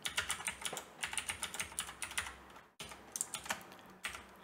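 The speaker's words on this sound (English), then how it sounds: "we have to type in the IP address of the device where we have Samba Share located" Rapid keystrokes on a computer keyboard while an IP address is entered, a steady run of close, crisp clicks with a brief pause partway through, no voices.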